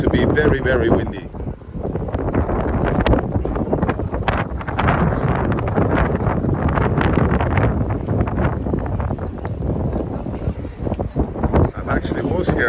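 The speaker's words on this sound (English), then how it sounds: "It started to be very, very windy." Strong gusts of wind outdoors in the Vasily Island suburbs of Saint Petersburg, Russia, batter the microphone with loud, continuous rumbling buffeting that swells and eases, close and dominant throughout.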